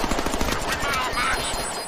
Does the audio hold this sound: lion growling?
no